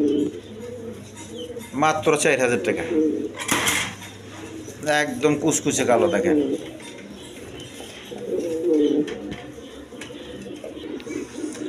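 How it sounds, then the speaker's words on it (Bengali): Two male beauty pigeons, jet black, coo softly in the background while someone talks over them for most of the stretch. "এখানে 2টা বিউটি কবুতর আছে, দুটোটাই নর কবুতর।"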